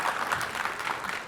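Audience applause at a public political forum, a short burst of steady clapping from a room full of people.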